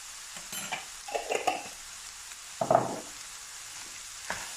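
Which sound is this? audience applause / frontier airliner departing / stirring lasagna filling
stirring lasagna filling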